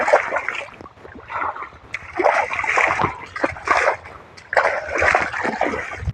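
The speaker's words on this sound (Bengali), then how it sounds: "তো ভাবলাম যে পাটা ধুয়ে নিই, পাটা ধুয়ে নিচ্ছি।" Cold water splashes and sloshes in uneven bursts as feet are washed outdoors in a field, with close, wet splatters and brief trickles coming in clusters.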